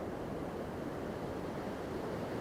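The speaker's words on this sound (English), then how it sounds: "very impressive waves" Ocean waves breaking at Tresaith beach in mid-Wales, a steady, broad roar of surf with constant wash and some wind buffeting, no gaps or voices.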